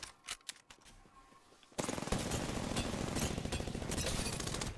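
Automatic gun firing nonstop in the Apex Legends video game, a loud rapid rattle that kicks in after a quieter stretch of scattered shots and keeps going without a break.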